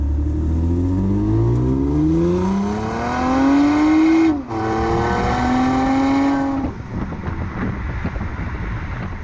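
A 2020 Toyota Camry TRD on a valley drive, its engine climbing through the gears in rising harmonic sweeps, with a brief lift-off at a shift before pulling hard again, then easing into road and wind noise.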